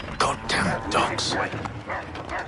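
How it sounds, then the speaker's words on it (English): Dogs bark in the Assassin's Creed III video game, a few sharp yaps and woofs mixed in with overlapping voices and battle noise across the short stretch. "Goddamn dogs."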